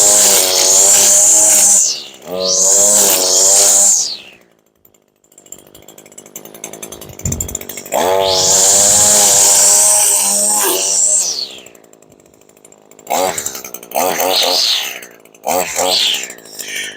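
A small carbureted engine runs roughly and unevenly, surging loud in long bursts, dropping to near idle between them, then revving again in short choppy blips toward the end.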